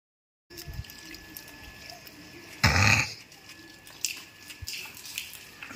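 Water runs from a pipe outdoors, a faint steady flow with one louder rushing gush partway through.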